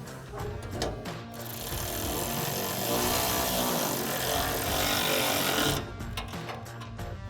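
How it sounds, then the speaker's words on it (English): Bolts on a Barricade Extreme HD modular front bumper for a 2019-2023 RAM 1500 being tightened with a 4 mm Allen socket and 10 mm wrench, giving a sustained loud whirring, grinding tool run of several seconds with rattles before and after. "And then we'll take that 4 millimeter Allen socket and 10 millimeter wrench to tighten these down."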